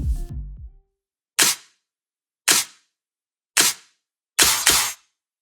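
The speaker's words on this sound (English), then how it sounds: "In the drop I originally made these claps." Layered clap samples from the drop of an electronic track sound as sharp, dry, isolated hits in a sparse rhythm, four single claps followed by a quick double, each with a short bright tail and silence between.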